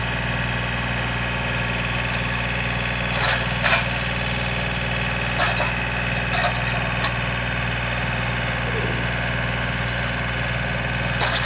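A machine engine used for loading palm fruit runs at a steady idle with a constant mid-low hum and vibration, joined by a few sharp metallic clanks, with no voices.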